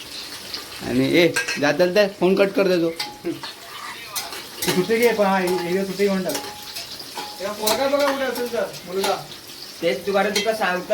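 Onions frying in a pan for a Kokani-style chicken dum biryani, a continuous sizzle with clinks of a utensil against the pan, under ongoing talk by a voice.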